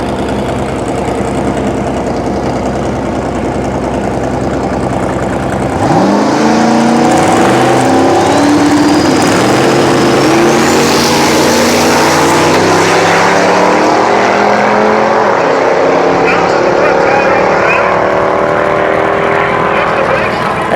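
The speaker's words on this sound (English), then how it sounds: "Schaefer with the Camaro has won his" Race cars idling, then a Camaro and other race cars pulling away together on an elimination run during race week, a steady rumble giving way to a loud rising roar of several engines accelerating into the distance.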